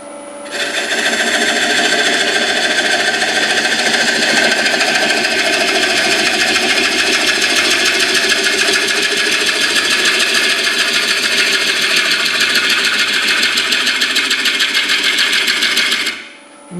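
A wood lathe spins a 12-inch red oak bowl blank, producing a loud, steady motor hum with a rhythmic mechanical whir that holds constant for about sixteen seconds before cutting off. No voices are heard.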